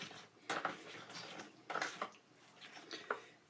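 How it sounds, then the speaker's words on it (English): Corn muffin mix with cheese being stirred in a bowl, three soft scraping, squishing strokes of a utensil against the dish, close by, with quiet pauses between them. "So we're going to stir it up."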